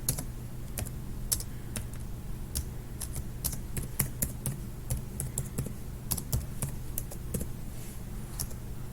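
Computer keyboard typing while entering database code, a close, steady patter of light key clicks with uneven bursts and brief pauses over a low background hum, no speech.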